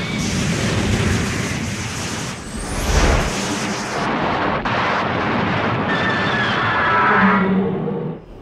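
Film battle in Godzilla vs. SpaceGodzilla as Moguera fires its weapons, a loud continuous roar of booming blasts and rumbling explosions with whooshing energy beams and a rising whine, no talk.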